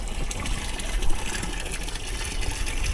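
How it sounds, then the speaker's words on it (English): Water flowing through a siphon in a mini aquaponic tank, a soft continuous gurgling trickle with slight surges, fairly faint and close. "Siphon started."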